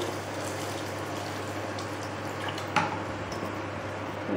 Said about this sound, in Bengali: যেটা সিদ্ধ হবে অল্প করে জল দিয়ে দেবো।